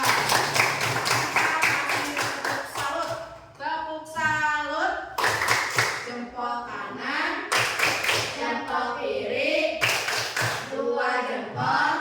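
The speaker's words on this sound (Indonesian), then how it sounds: "Tepuk tangan buat Akila" Pupils in a primary school coding class applaud a classmate with bursts of quick, rhythmic clapping. The bursts come in short runs, broken by stretches of talking voices.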